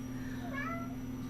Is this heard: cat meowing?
yes